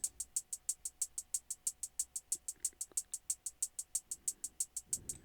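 A steady, fast hi-hat ticks evenly, with crisp bright hits pulsing at a constant rate and slight variation in their strength.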